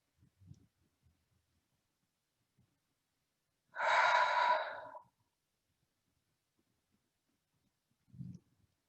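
A single slow, audible exhale lasting about a second, soft and close, with faint quieter breaths before and after in an otherwise silent room.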